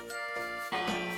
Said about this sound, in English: Could one of you ring the bell, please?